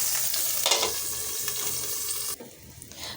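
Bean-leaf paturi parcels fry in oil in a pan, giving a steady, close hiss and crackle that drops away abruptly near the end and leaves a quieter, faint sizzle.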